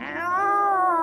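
Single cat meow used as a sound effect in a Filipino horror audio drama, a clear, close, drawn-out wail lasting about a second with no talk.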